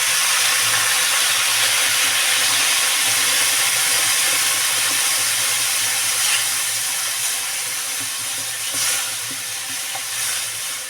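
Water goes into a pan of frying winter vegetables, raising a loud, sustained steamy hiss and sizzle that stays strong, then eases and settles a little toward the end, close by with no talking.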